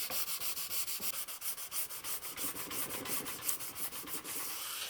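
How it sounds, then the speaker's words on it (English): Wood being sanded smooth by hand, moving from coarse grit to fine, while building a wooden twin screw gear-linked vise: steady back-and-forth rasping strokes in a quick, even rhythm, close and clear with no talking. "I'll make it even smoother by sanding it, starting with rough grit and working up to something really fine"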